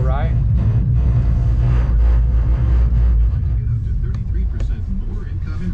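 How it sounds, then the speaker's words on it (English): Twin outboard motors on a 2023 Seasport Kodiak 26-foot boat run with a loud, steady low rumble that eases slightly toward the end while a voice talks over it. "Faster, you just push ahead on the port motor"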